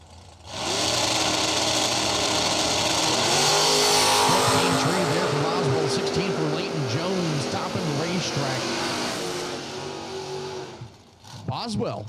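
A 1967 Camaro and a 1968 Camaro launch side by side at a drag strip, engines roaring loudly and steadily for about ten seconds before fading, with an announcer talking over them.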